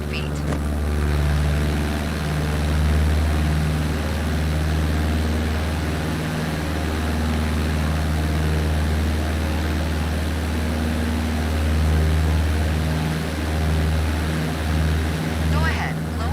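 Steady propeller plane engine drone in Microsoft Flight Simulator, a constant loud hum with a low tonal throb that holds evenly throughout while an instructor's voice speaks over it.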